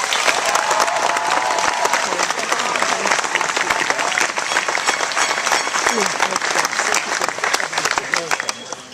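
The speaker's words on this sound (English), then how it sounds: "What do you say we send them off with a round of applause?" A school audience gives a sustained round of applause for students heading to a national competition, dense steady clapping from a crowd that holds at full level for the whole stretch, with a few voices mixed in.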